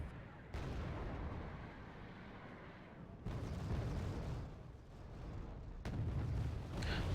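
Artillery bombardment in the Wargame AirLand Battle video game, a steady rumbling barrage of distant blasts with sharper bursts now and then, continuous through the clip at moderate loudness.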